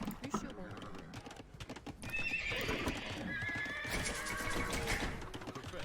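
Horses in the game Age of Empires II clip-clop and neigh amid busy battle sounds, with repeated whinnies over a dense, steady layer of game noise.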